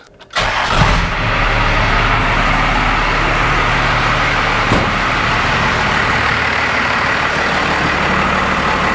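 A diesel engine with a newly installed lift pump cranks briefly and catches, then settles into a loud, steady, close idle that runs alone to the end.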